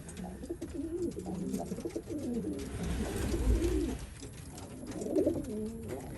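A racing pigeon coos softly and repeatedly amid steady outdoor background noise, low throaty calls rising and falling over several seconds.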